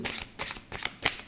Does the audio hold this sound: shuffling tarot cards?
yes